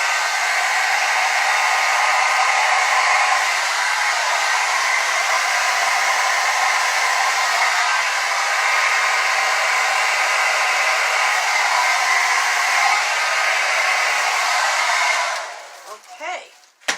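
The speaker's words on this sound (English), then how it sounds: "Blow dryer." A blow dryer runs steadily and close for about fifteen seconds, pushing paint across an acrylic Dutch pour painting, then cuts off, leaving a few faint handling noises.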